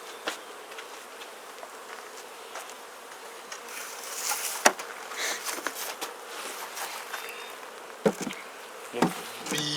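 Honey bees buzz around an opened Langstroth hive during an inspection, a soft continuous drone near the microphone, broken by occasional knocks and clatter from handling the hive parts.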